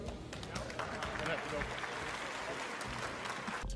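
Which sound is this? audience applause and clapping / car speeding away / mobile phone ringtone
audience applause and clapping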